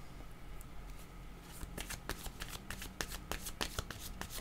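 A deck of cards being shuffled close by, with quiet handling at first and then a run of crisp riffling snaps and flicks in quick succession, no talking.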